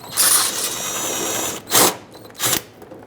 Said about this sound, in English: there's a 7mm headed screw holding the bumper cover onto the fender. Remove that.